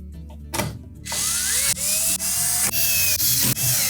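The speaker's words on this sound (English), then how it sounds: "Now at this point we can put the remainder of the screws in for the side panel." Power drill driving screws into the side panel of a Whirlpool range, with a steady high whine broken into several short bursts as the screws are run in, close and loud, after a few clicks and knocks.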